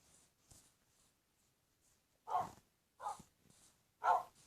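Dogs bark in the video game Minecraft: three short, moderately loud barks arrive in a steady rhythm after a quieter opening with faint scattered blips, and no one talks over them.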